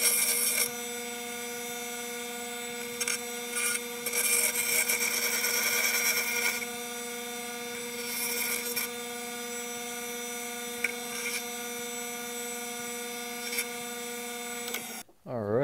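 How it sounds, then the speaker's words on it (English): A bench grinder runs with a steady tonal whine while a bullet is pressed against the wheel, the grinding rising and falling in close, loud passes before the motor cuts off at the end. "I think I'm going to try and take it down on the bench grinder"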